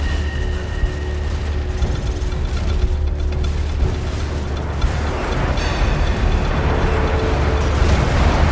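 Airstrike explosions in Call of Duty 4: Modern Warfare, a sustained, loud, rumbling barrage with dense low booms and crackling debris that swells toward the end, with no talk over it.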